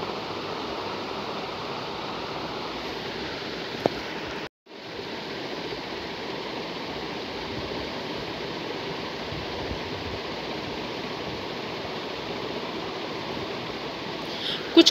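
Continuous broadband roar of a waterfall in a mountainous region, steady and close, with a brief cut in the middle and no voices over the rushing water.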